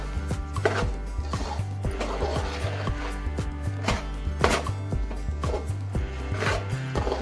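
Sesame and jaggery laddu mixture being mixed fast in a pan, a rapid, steady run of loud scraping knocks that continues without pause, with no talking.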